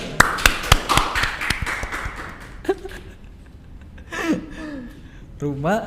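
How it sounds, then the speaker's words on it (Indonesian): A few hands clapping in a student organization talk session, a quick run of sharp claps that fades into quiet talk and a chuckle. "Tepuk tangan."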